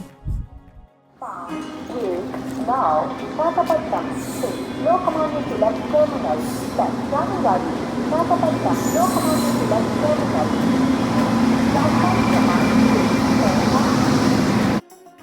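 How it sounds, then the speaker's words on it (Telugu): Busy railway station ambience at night with a steady low rumble of a train or engine, overlapping voices and announcements, continuous and fairly loud. "ఇద్దరు రైల్వే స్టేషన్కి వచ్చేసాం"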